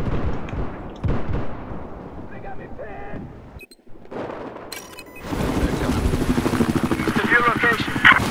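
Rotor noise of a helicopter in a Battlefield 4 battle, with gunfire and explosions booming, while voices talk over the din.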